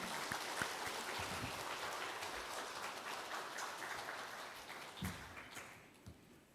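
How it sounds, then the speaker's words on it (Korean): Church congregation welcoming a missionary with applause at a Sunday praise service, a faint, steady patter of many hands clapping that slowly fades out over several seconds. "우리 선교사님 모실 때 큰 박수로 우리 격려해드리고 환영하며 모시겠습니다"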